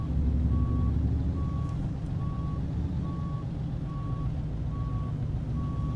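Mack Superliner truck in American Truck Simulator backing up, its reversing alarm giving seven evenly spaced beeps over a steady low diesel engine drone.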